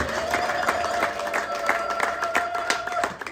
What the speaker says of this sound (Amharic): አጨብጭቡ በደንብ